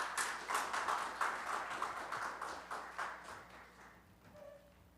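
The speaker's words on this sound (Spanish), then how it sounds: "Vamos a recibirlo con un aplauso." An audience at an academy of history event applauds to welcome a speaker: dense, steady clapping from a seated crowd, fairly even for several seconds and then thinning out toward the end.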